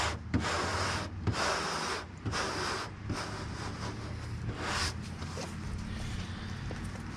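Grip tape being rubbed down onto car rocker panels, a near, rough rubbing and scraping in repeated strokes with brief pauses, over a light background hiss.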